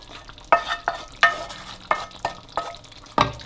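Chicken frying in a pan with an onion and green pepper mixture for chicken Patiala, sizzling steadily while a utensil stirs and scrapes in irregular clacks about every half second, close and without talk.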